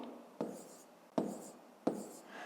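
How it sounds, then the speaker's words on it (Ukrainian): Hand-written numbers on paper during a fifth-grade maths exercise: three distinct pen strokes, each a sharp scratch tapering off, spaced under a second apart, close and fairly quiet. "Ну що ж, записуємо, що х тоді дорівнює."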